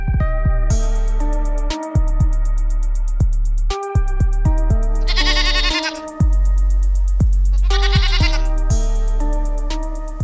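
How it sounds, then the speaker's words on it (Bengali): Cartoon goats bleating in a rapid run of loud, close, musical bleats, stacked and repeated over about ten seconds with brief gaps and a few sharper high-pitched cries. "মোহন ভাই, অনেক হয়েছে, এইবার ছাগলগুলো নিয়ে চলো বাসায় ফিরে যাই।"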